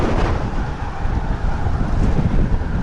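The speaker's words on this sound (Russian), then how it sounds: "Ветер не дает ехать." Strong evening wind buffets a cyclist's microphone on an open, treeless road near Gusinoozyorsk, a steady loud low roar and rumble with gusty swells throughout, no voices.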